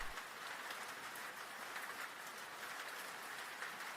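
Steady, even rain falls continuously, a soft dense hiss of drops with no breaks and no voices.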